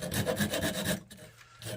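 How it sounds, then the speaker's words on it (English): A hand saw cuts through a pre-1900 golf club, close rhythmic rasping strokes about four or five times a second, then a brief pause before the stroking resumes. "Let's grab this saw and we'll cut off."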